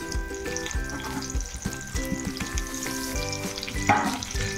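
Onions and curry leaves frying in hot oil for rasam, a steady close sizzle with crackling bursts throughout, no talking.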